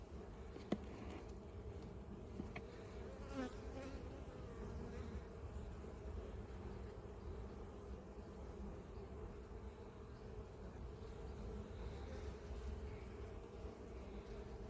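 Honeybees hum in a busy apiary hive while supers are being added, a steady, dense drone of many wings close by, faint and continuous with no talk.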